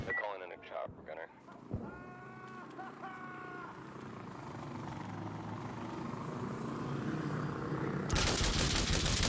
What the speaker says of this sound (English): They're calling in a chopper gunner.